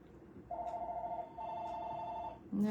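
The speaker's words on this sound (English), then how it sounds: "Yeah, phone's ringing." A telephone rings indoors with a steady electronic bell tone in two long bursts, moderately loud and somewhat distant, with no talking.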